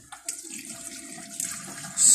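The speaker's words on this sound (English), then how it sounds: "Sink with running water." Water runs from the tap into a small sink in a camper van, a steady close splashing flow that swells louder near the end, with no talk over it.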